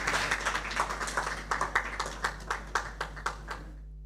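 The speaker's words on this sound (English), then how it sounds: "Let's give them a round of applause" An audience claps for Team One at a schools' innovation challenge award ceremony, a brisk, dense round of applause that thins out and stops after about four seconds, with no talk.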